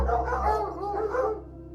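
Several dogs bark near a storage building at night, a close, fairly loud run of overlapping barks and yips that fades toward the end.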